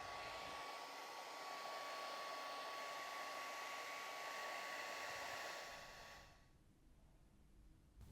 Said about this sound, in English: We're going to get the hairdryer out and really utilise the resin's fluid movement